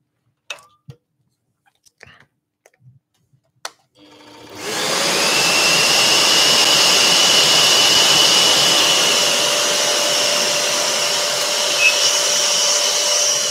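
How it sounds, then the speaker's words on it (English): A dust extractor in a woodworking shop starts up after a few small clicks and knocks, then roars steadily and loudly with a whining hum for the rest of the clip. "I'm just going to turn that extractor off."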